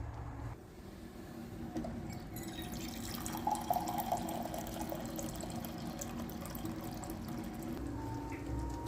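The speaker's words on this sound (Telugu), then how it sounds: "ఇందులో కొంచెం నీళ్ళు వేసుకుందాం." Water being poured into a pan of chickpea curry, a steady soft trickling and bubbling that runs continuously at a low level.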